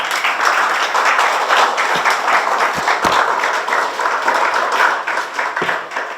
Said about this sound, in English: Can we have a better round of applause?